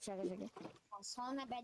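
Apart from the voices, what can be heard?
None of the usual background noises is heard.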